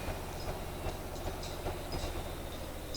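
A model submarine engine running on air drawn from its tanks, a steady, faint mechanical rumble with a low, even drone and light clicking on top, continuing without talk.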